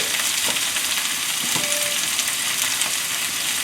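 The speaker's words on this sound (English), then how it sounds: "We're gonna give them a quick stir." Vegetables with ginger and garlic sizzle steadily in a pan on a stovetop, with a few soft scraping stirs rising out of the constant close hiss.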